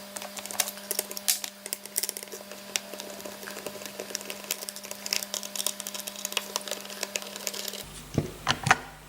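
Small screws being unscrewed on a VSR10 airsoft rifle during disassembly, giving a run of faint, close clicks and light metallic scrapes with no talking, ending in a few louder taps.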